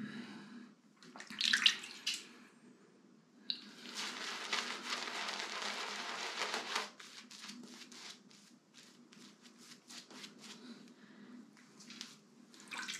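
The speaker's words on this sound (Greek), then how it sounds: "Βάλουμε λίγο ακόμα νεράκι" Water poured and splashing into a bowl of thick Rockwell shaving soap lather, a run of bright hissy splashing and wet swishing for several seconds, then softer intermittent wet brush strokes; no talking.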